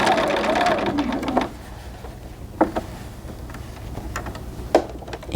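A sewing machine runs briefly on doll pants fabric, a short hum at the start, followed by quieter clicks and taps of fabric handling, with a voice talking.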